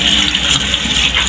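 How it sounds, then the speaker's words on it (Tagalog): Tap water gushes loudly and steadily over small cut chicken pieces being washed in a kitchen sink before marinating, a close, continuous rushing stream. "So, hugasan lang natin siya"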